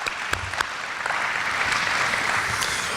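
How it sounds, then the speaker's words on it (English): A luncheon audience at a Chamber of Commerce event applauds in a dense, steady wash of clapping that holds at an even level throughout, with no talking. "Let's give them a round of applause."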